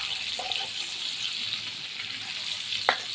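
Fish sizzles steadily in hot oil as a fry in a home kitchen, a constant hiss with a couple of brief clinks from a utensil.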